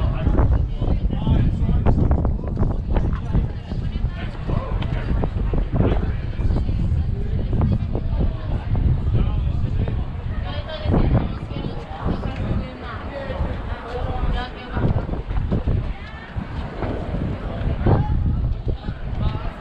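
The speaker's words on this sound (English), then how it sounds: "Incredible how windy." Strong, steady wind roaring and buffeting the microphone at night atop the Vessel at Hudson Yards in New York City, loud and continuous throughout, with people talking faintly beneath the gusts.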